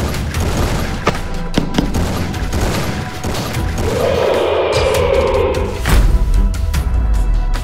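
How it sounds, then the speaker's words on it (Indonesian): Sustained gunfire from an animated Free Fire battle against a giant scorpion, a dense stream of rapid shots with crashes and booms layered over continuous game noise. "Ayo terus tembak. Kayaknya udah mau tumbang tuh kalajengkingnya."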